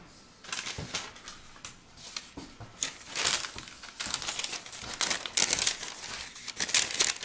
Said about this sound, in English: I'm going to get a piece of paper, see how well it cuts.